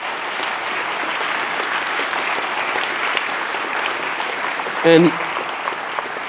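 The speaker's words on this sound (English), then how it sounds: "So round of applause for all of those people." Audience applause at a conference talk on open source, a steady wash of clapping throughout with a brief louder burst near the end, and a voice speaking a word over it.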